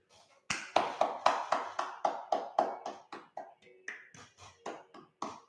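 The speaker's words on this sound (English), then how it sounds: "So let's give a big applause to white kids." Rhythmic hand clapping, roughly fifteen sharp, evenly spaced claps close by, steady and fairly loud, briefly slowing and resuming toward the end.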